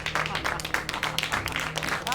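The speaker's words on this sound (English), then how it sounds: "Threatening applause." Soft applause rises in the horror video game The 13th Doll, a low, steady patter of clapping with a voice talking over it.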